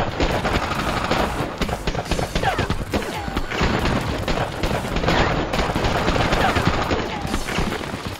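Dramatized rifle fire from a volunteer island garrison on Dokdo, loosed as warning shots at an approaching Japanese vessel: dense, continuous volleys of overlapping shots and booms fill the whole stretch without pause, loud and close.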